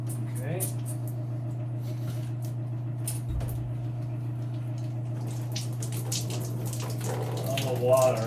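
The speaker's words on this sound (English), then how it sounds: "All the water out of this hose." Water runs steadily out of a detached shower hose during demolition of a fiberglass vinyl shower, a constant close hiss and splatter with a few clunks and a louder gurgle toward the end.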